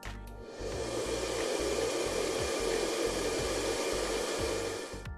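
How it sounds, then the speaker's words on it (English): A running clothes dryer gives off a steady, close whooshing hum with broad airy hiss, continuous and even for several seconds with no voices. "they have no problem carrying the power required to run the dryer"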